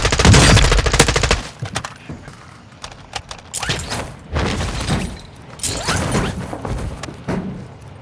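Call of Duty Modern Warfare II battle on the Vondel map: bursts of automatic gunfire and sharp single shots with thuds and impacts, loud and close, repeating over several seconds.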